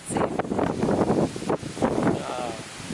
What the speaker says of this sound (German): Ja, merkt ihr den Wind?